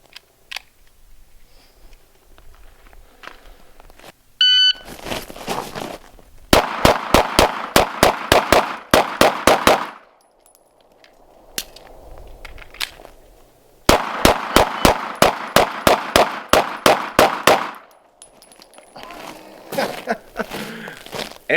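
Two rapid strings of Hellcat pistol shots in a timed carry drill, each a tight volley of sharp, loud reports after a short beep, separated by a quieter pause with faint shuffling.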